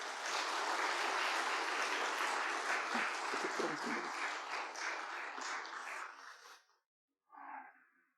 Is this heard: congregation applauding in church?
yes